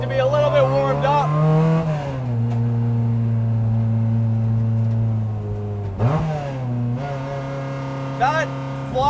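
Lotus Exige S1 sports car engine with a light flywheel revving hard, pitch climbing quickly then dropping as gears shift, with a steady drone between revs, loud and close.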